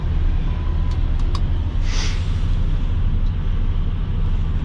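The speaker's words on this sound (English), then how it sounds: "Dragging the trailer." A truck hauling a trailer rolls off with a steady, loud engine rumble, with a few faint clanks and a brief hiss partway through, and no voices.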